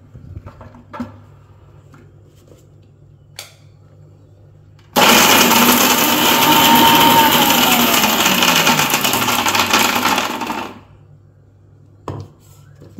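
A kitchen blender grinds coconut and mango for homemade mango ice cream, starting abruptly with a loud, steady whirring roar that holds for about six seconds before cutting off, with faint clatter before and after.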